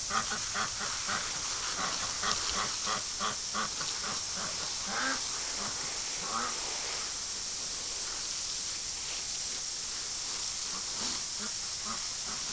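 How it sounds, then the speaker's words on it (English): Warm water sprays steadily onto a duck in winter, a constant hiss with scattered soft quacks from ducks nearby, strongest early on and fading into the continuous spray. "Alright, stripper, I'm gonna give you a shower too."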